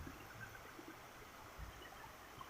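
A river stream flows steadily in a quiet, even rush of water, soft and constant with faint trickling detail and no voices.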